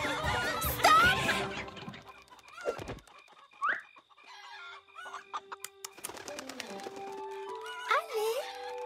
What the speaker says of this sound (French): Vous êtes de gentilles petites poules.